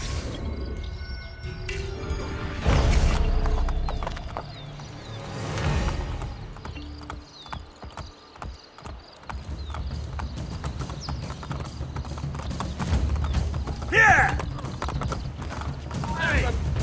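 In Assassin's Creed Brotherhood, a horse gallops across a bridge with rapid, loud hoofbeats. There is a brief neigh and some mechanical creaks, and voices talk over parts of it.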